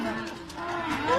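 Cows and calves lowing at a corral after a roundup, a close, sustained moo with harmonic tones rising and falling, heard under a narrating voice.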